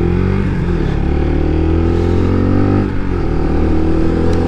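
A Lexmoto RSS Street 125cc motorcycle engine drones loudly while riding, with rising and falling revs through gear changes and a brief dip near the end, steady and close with no talk.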